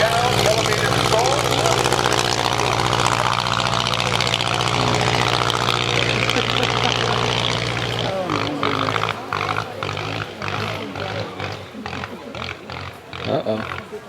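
A Wright brothers style vintage aircraft engine runs loudly at an air show, a steady rough drone that breaks into an uneven, sputtering, choppy rhythm partway through.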